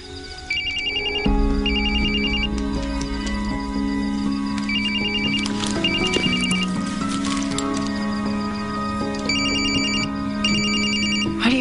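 A mobile phone rings with a repeating electronic ringtone, short bursts of bright tones recurring in a regular pattern over a steady background of music or hum, fairly close and clear, with no talking.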